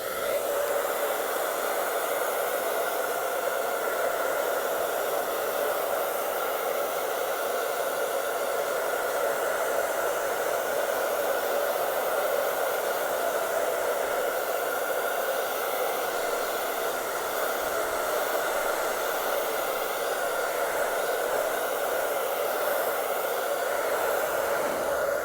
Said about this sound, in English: I'm just going to give it a quick shot with my hair dryer to speed up this process